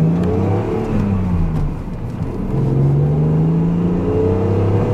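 A BMW Z3 3.0i coupe with the M54 engine accelerates on a country road, its six-cylinder note rising through gears in smooth sweeps with a brief dip at a shift, loud and steady from inside the car.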